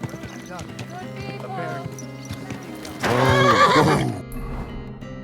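A horse whinnies loudly in the game Kingdom Come: Deliverance 2, a shaky, rising and falling call amid other tonal background sounds and light movement.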